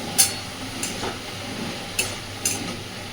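Bottle gourd curry is stirred with salt in a pan, with a few scraping strokes of the spatula over a soft, steady sizzle, close and moderately loud.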